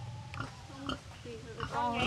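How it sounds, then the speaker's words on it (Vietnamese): A pig of about 70-80 kg at a farm pen in northeast Vietnam grunts and oinks in short nasal bursts, close by, with people talking over and around it. "tại sao người ta gọi là lợn tên lửa là như thế"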